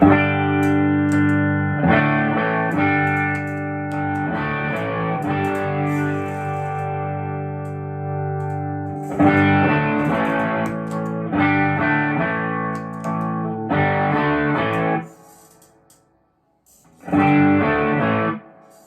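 Electric guitar through the green side of a Browne Amplification Protein overdrive pedal, a crunchy overdrive tone, plays chords and riffs in bursts, separated by short pauses, ringing with sustain before cutting off.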